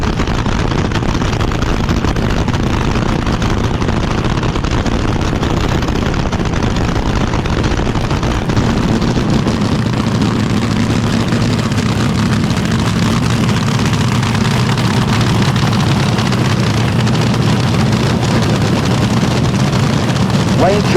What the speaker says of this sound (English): He does those short burnouts they like to do.